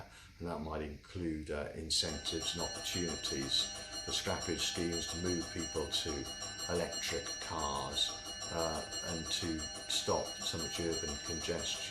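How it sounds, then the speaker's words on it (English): A Parliament division bell rings continuously for a Brexit vote, a steady high tone running under a man's close, clear speech throughout. "You can probably hear the ringing bell behind me, which is about voting on Brexit"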